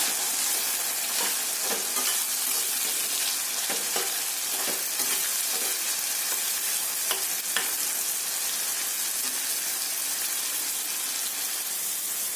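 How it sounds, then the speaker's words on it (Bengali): Potatoes frying in oil on a full gas flame, a dense continuous sizzle with scattered crackles and stirring scrapes throughout. "গ্যাসটারে এখন ফুল ফ্লেমে করিয়া আলুটারে একটু ভাজা ভাজা করবেন।"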